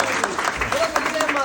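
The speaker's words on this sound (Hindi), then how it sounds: "तालियां बजा दो" A short burst of audience clapping at a religious healing gathering, uneven claps over a murmur of voices.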